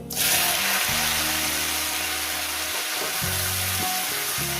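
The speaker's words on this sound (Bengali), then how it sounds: "ভাজা হয়ে গেছে এবার দিয়ে দেবো উচ্ছে কুমড়ো" Sliced bitter gourd and pumpkin hit hot oil with black cumin seeds, bursting into a loud, close, continuous sizzle that holds steady as stirring rumbles underneath.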